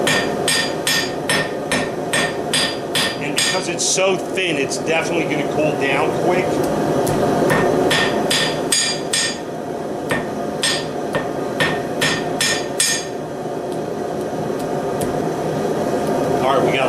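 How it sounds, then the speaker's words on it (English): Hammer blows strike hot bandsaw blade steel being forge welded into a fillet knife, a rapid series of sharp ringing hits in bursts over a steady forge roar, with someone talking between strikes. "now we're going to get a little aggressive with the hammer."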